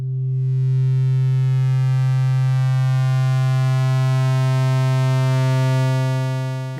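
A pure sine-wave drone run through a Eurorack vertical shaper module holds one steady, loud tone for the whole stretch, with a rich stack of bright overtones that shift slightly near the end.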